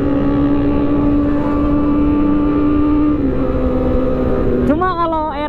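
A Yamaha R6 and a Kawasaki ZX25R, both fitted with SC Project exhausts, idle loudly and close by with a steady harmonic engine drone. One engine revs up sharply in a rising snarl near the end.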